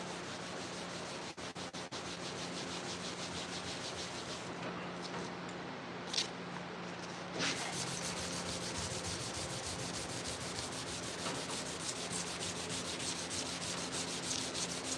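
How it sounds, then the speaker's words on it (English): Steady, close scuffing of a 1987 C30 cowl hood before painting, a continuous rough rubbing and sanding sound with a few short pauses and a brief knock near the middle. "I'm gonna scuff the top, I'm gonna scuff the bottom"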